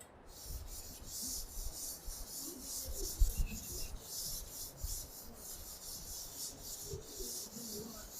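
Writing being rubbed off a classroom board, a run of dry scrubbing strokes in an uneven rhythm, fairly faint, with no talk.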